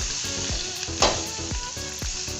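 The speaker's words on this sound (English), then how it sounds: "now we are going to be frying our veggies" Vegetables sizzle and crackle steadily in butter in a hot pan, close up, with occasional scraping stirs of a utensil.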